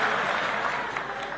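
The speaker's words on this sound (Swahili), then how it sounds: "So mpigeni makofi huyu jamaa." A church congregation in Nakuru applauds during a presidential speech, a brief, dense wash of clapping from a large crowd that fills the whole moment evenly, with no one speaking over it.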